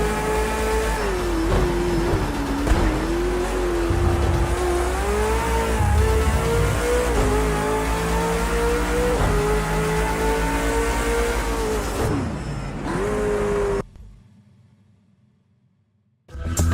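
Race cars in the GT Sport video game roar through the fast 130R corner, a loud sustained engine whine rising and shifting in pitch, then cutting abruptly to near silence before returning briefly.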